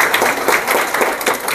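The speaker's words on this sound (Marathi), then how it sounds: "मुलांनी टाळ्या वाजवल्या" Schoolchildren at a Zilla Parishad school in Bhiwandi taluka clap together, a dense, steady patter of many small hands with no pauses, loud and close throughout.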